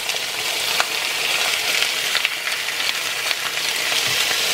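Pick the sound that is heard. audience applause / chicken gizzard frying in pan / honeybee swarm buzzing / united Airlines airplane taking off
chicken gizzard frying in pan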